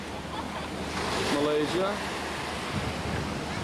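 Ocean waves wash onto a tropical shore beside a seafood restaurant in Singapore, a continuous surf hiss mixed with wind buffeting the microphone, while a person speaks briefly over it.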